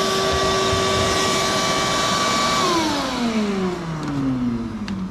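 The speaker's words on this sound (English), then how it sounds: "Make sure you use the vacuum to vacuum up the mess" A vacuum cleaner runs loud and steady with a strong whine, then its pitch drops as the motor winds down toward the end, alone without talking.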